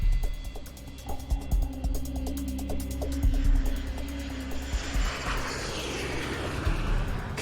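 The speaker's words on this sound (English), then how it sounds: "The airliner is just seconds from flying over the island of Sakhalin." An airliner, Korean Air Lines Flight 007, drones overhead as a low, continuous engine roar with a rumbling, uneven texture and faint rhythmic ticking, moderately loud throughout.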